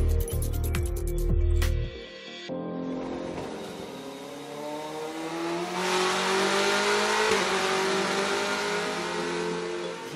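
A BMW M8 GTE race car's twin-turbo V8 engine runs on a test bench, loud and near, rising from a rumbling idle into sustained revving with shifting pitch through most of the stretch.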